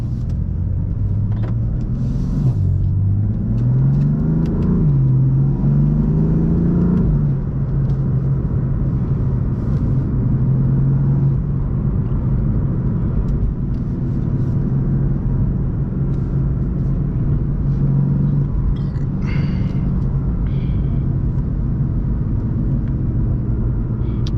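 A 600 hp stage 2 tuned BMW F82 M4 drives along a highway, its loud, steady engine drone rising in pitch through a few revs before settling into a continuous cruising rumble, with no talk.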